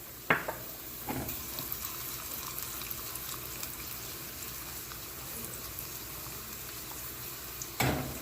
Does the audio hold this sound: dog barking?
no